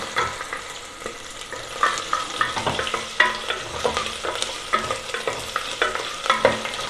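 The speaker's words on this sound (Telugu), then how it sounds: "ఇది కొద్దిగా 2 minutes ఫ్రై చేయాలండి" Ginger and spices sizzle in a pan for chicken soup, while a spoon scrapes and stirs in quick irregular strokes close by, with steady frying hiss underneath.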